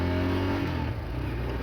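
A Royal Enfield Scram 440 motorcycle pulls away in first gear, its engine droning loud and close and rising steadily as it accelerates.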